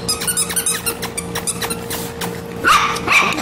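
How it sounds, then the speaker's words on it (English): Cocker Spaniel puppies bark and yip in quick, high repeated bursts, close and fairly loud, with a few sharper yelps toward the end. "these are our sweet Cocker Spaniel puppies"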